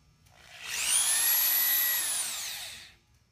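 A drill bores a hole through a timber beam for a post-and-beam connector, producing a single whining burst of about two seconds that swells and then fades, heard alone without talk.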